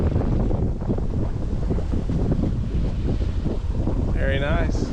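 A sailboat under way in steady wind between Dominica and Guadeloupe on a pleasant day, with constant wind buffeting the microphone and water rushing along the hull. A brief, faint high whistle-like tone near the end.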